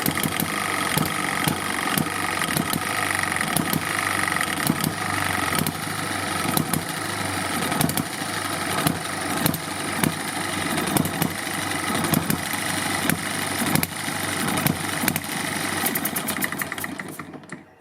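Eachine ET1 hit and miss model engine running loud and close, a steady mechanical chugging with regular sharp ticks that speed up briefly before it cuts out at the end.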